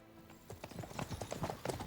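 Horse hooves clip-clopping in the video game Kingdom Come: Deliverance, a quick irregular run of close hoof strikes growing louder, without speech.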